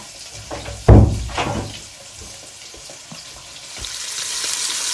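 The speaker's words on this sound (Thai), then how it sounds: "เริ่มจากสไลด์เนื้อแล้วก็เรียกว่าย่างเนยบนกระทะค่ะ" Sliced meat grills in butter in a hot pan, giving a steady close sizzle with a loud clunk of utensil or food hitting the pan near the start and soft stirring scrapes after it.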